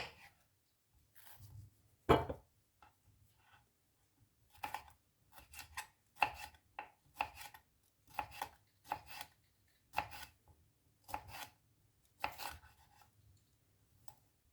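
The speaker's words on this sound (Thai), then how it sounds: "หั่นพาพิกาไว้ก่อน" Quiet, irregular knife cuts through bell pepper against a cutting board, single chops and short bursts separated by pauses, close up with no talking.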